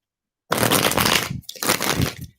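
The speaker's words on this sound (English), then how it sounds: "Sorry for the shuffling in the microphone." Close rustling of tarot cards being shuffled right against the microphone, two dense bursts of crackling paper friction with a short pause between, loud and without talk.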